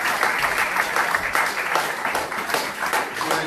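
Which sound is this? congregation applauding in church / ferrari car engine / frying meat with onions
congregation applauding in church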